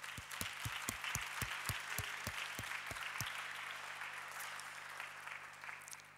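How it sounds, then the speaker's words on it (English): Festival audience applauding the partners at a film awards event in a hall, steady distant clapping with a few close, sharp individual claps early on, gradually fading. "I really ask a big, warm applause for all our partners before we start with the awards"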